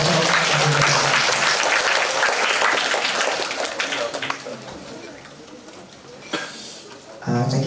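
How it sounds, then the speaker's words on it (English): Applause from a seminar audience for a professor at a community empowerment and public health event, loud and dense at first, then thinning and fading before a brief late swell. "Give our applause to Professor"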